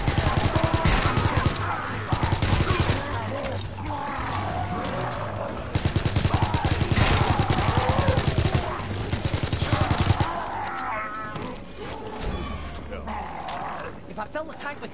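Rapid video game gunfire rattles in loud sustained bursts while shooting at ghouls, mixed with growls and roars, then drops to quieter sounds near the end as people talk over it.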